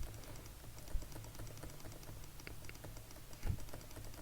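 Someone repeatedly presses the Enter key on a computer keyboard, making a quiet run of crisp clicks with a couple of slightly louder taps.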